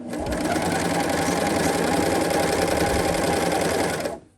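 A sewing machine stitches an elastic waistband on pants in one steady, loud, continuous whirring run of about four seconds before stopping, close up with no talk.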